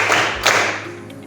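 A sixth-grade class claps hands together during a counting clap game, producing two or three close, fairly loud group claps with no voices over them.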